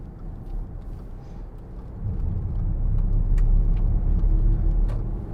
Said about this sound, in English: We'll give it some gas just going up the bypass.